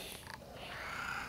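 A cat purrs steadily and close in a garage, a low continuous rumble with no talk over it.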